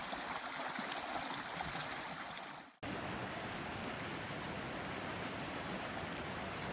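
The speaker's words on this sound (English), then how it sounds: "Extra exciting water crossing. It's a bad winter, so we actually have water," Water rushing steadily at a mountain stream crossing swollen after a wet winter, a continuous broadband flow heard close and loud, with a brief cut in the middle before it resumes unchanged.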